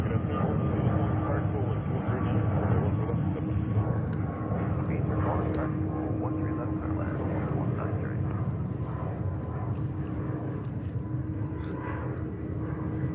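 An Alaska Airlines Boeing 737 at JFK airport produces a steady, loud engine roar that holds throughout, with faint radio chatter in the background.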